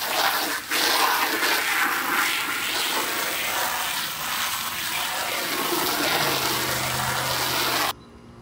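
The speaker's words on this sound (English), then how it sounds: "Just washed it off with the old Dawn" Water rushes steadily and loudly from a hose or tap over a homemade deer decoy being washed with Dawn soap, then stops abruptly near the end.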